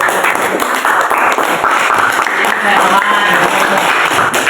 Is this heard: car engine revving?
no